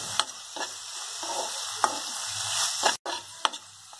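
Tomato ketchup and soy sauce, with red chilli sauce, stirred together in a pan for egg Manchurian, a soft bubbling sizzle punctuated by several sharp spoon scrapes and taps, with a brief gap near the end.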